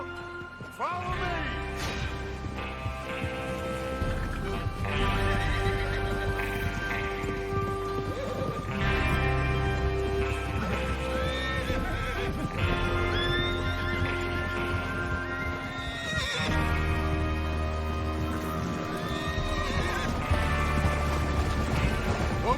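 Horses clip-clop and whinny amid mechanical clanks in Red Dead Redemption 2, with music and a spoken voice layered over the steady hoofbeats.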